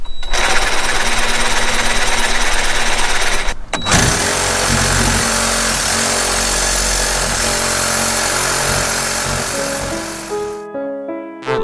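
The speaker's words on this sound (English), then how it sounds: "The sawzall is a bit of a disappointment." Reciprocating saw cutting metal while lowering a Subaru SVX, a loud, steady buzzing rasp that runs continuously, pauses briefly, resumes, and winds down toward the end.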